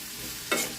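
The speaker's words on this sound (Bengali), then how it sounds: "অল্প আঁচে ভাজতে হবে" Chepa dried fish frying in a pan over low heat gives a soft, steady faint sizzle, broken by one short scraping stir.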